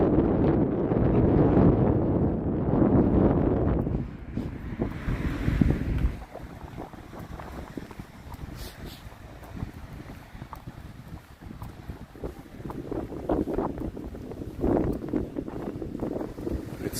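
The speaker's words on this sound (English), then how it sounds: "It's so windy." Strong wind roars and buffets the microphone outdoors on a street in Japan, loud and gusty at first, easing in the middle and then rising again near the end, with no talking over it.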